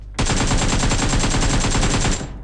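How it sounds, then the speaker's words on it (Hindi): A continuous burst of automatic gunfire in the mobile battle royale game PUBG Mobile, rapid evenly spaced shots rattling loudly for about two seconds before cutting off. "क्या ही क्राउच एंड शूट करके मारा है मैंने उसको"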